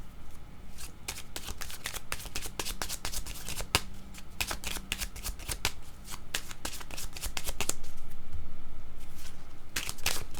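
Cards being shuffled for a card reading make a close, rapid run of crisp riffles and snaps that repeat in quick bursts for about ten seconds, with only faint background noise.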